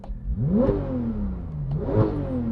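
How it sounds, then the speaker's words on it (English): A Porsche 911 GT3 engine revs twice, climbing sharply to a high wail and falling back, loud and close with a crackle between blips. "put the car into drive, pull both paddles, and now I rev it"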